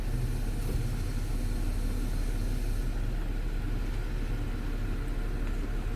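A Jeep Wrangler JL rolls slowly backward during rear sensor testing, giving off a steady, even low rumble of engine and tire noise with no distinct events.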